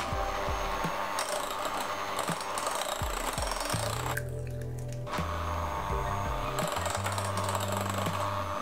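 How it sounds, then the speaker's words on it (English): An electric mixer beats cheesecake batter with eggs, whirring and rattling in close, loud bursts with a short pause partway through before it starts up again. "continue beating for about a minute after each addition"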